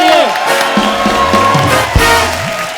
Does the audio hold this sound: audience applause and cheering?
yes